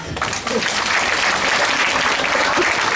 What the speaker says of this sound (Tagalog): Again, masibang palakpak!